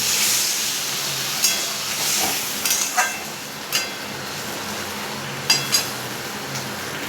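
Water poured into a hot pan while cooking a chickpea dal with coconut, giving a soft continuous hiss of steam with several sharp clinks of a utensil against the pan scattered through.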